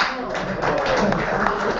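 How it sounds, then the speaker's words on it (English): Applause breaks out for a prize winner at the British Chess Championships in Aberystwyth, a dense, steady patter of many hands clapping with voices murmuring underneath throughout. "Round of applause for our"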